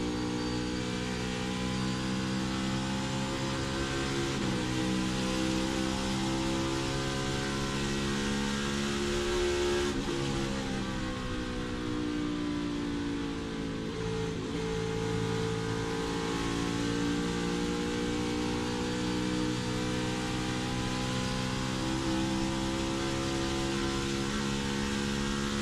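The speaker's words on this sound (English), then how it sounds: "Let's listen and see how this car is operating." Loud, continuous NASCAR Cup Series race car engine drone heard on board at Homestead-Miami Speedway, steady high revs with layered harmonic whine and slight pitch shifts, sustained throughout.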